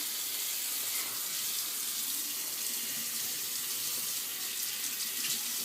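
Water runs steadily from a sink faucet, a close, constant hiss and splash that holds without a break, with no voices over it.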